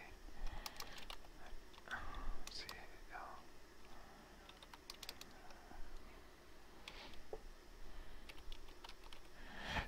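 Keys clack on a computer keyboard during work in QGIS software, with irregular bursts of typing at close range over faint background hiss and a breathy, whisper-like murmur.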